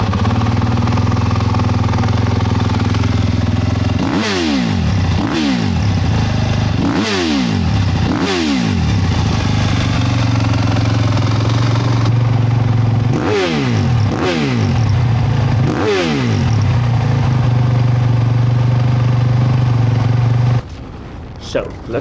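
A 2025 Fantic XEF 310 motorcycle on a sand motocross track in the Netherlands, its engine loud and close, with repeated sharp revving surges in pairs over a steady drone before cutting off near the end.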